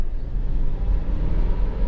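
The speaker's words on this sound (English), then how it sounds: "So I'm just going to give it a few more revs just to get up to speed" A 2.2 i-CDTi diesel Honda CR-V Sport station wagon drives on a rough road, its engine giving a steady, low rumbling drone mixed with road and cabin noise, continuous and fairly loud throughout.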